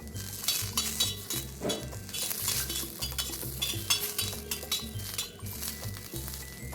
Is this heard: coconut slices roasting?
yes